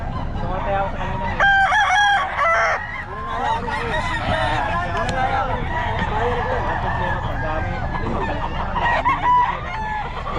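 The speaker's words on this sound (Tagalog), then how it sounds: "Boss Joey, magkano mga manok mo?" Chickens and roosters crow loudly and repeatedly among clucking and honking fowl, a dense, continuous barnyard chorus near and far that runs throughout.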